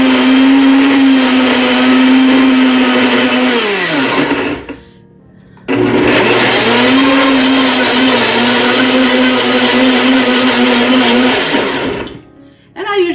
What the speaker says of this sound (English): Go ahead and just blend that.